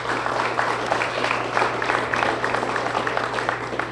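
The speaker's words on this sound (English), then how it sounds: "round of applause for Caroline." A room of people at a schoolhouse reunion gives a short round of applause, brisk overlapping claps at moderate loudness that continue steadily throughout, with a low hum underneath.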